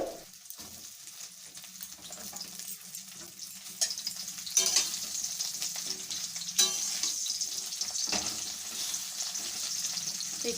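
500 grams of pointed gourd (potol) fry in hot oil for potol shorshe, a soft steady sizzle punctuated by occasional sharp spatters and scraping stirs, growing a little louder partway through.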